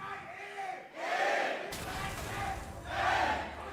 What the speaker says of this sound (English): as we hear, the crowd still favors Origen